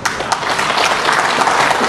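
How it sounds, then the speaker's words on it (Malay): Audience at a Malaysian political speech applauding for Zahid, a loud, dense, continuous burst of clapping with a few sharper individual claps. "tuan-tuan kena berikan tepukan pada Tuan Zahir."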